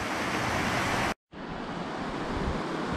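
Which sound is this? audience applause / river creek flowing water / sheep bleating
river creek flowing water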